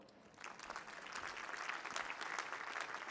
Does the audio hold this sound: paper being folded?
no